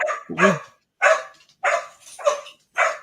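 A dog barks in a series of five sharp, close barks spaced roughly half a second apart, loud and alone with no talking between them.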